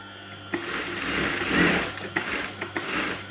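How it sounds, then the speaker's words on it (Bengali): A sewing machine runs in short steady bursts while stitching the band collar onto a kameez, a close mechanical whir with brief pauses and restarts, no voices. "তারপর আমরা এপাশে একটি সেলাই এক্সট্রাটি সেলাই করে দেব।"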